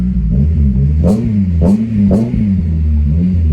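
Honda Civic FN2 Type R with a new aftermarket exhaust revving hard and close, a steady droning idle broken by three sharp throttle blips that rise and fall in quick succession.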